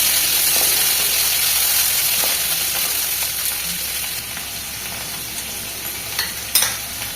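Chopped onions frying in oil with cumin and bay leaf, for masoor dal with pumpkin: a close, continuous hissing sizzle that slowly softens, broken by a few sharp clicks of stirring, with no talk.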